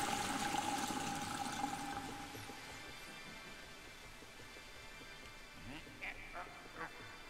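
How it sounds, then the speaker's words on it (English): Water drains in Luigi's Mansion 3 with a rushing flow that starts loud and then fades to a quieter trickle. Short cartoonish squeaks and quacks pop up near the end. "We drain the water."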